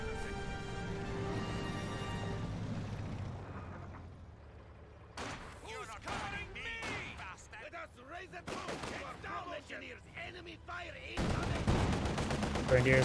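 Rifle volley fired at Grenadiers during a Company of Heroes 2 battle: sharp bursts of gunfire crack in clusters from mid-clip on, mixed with blasts and battle noise, with an engine-like drone early on.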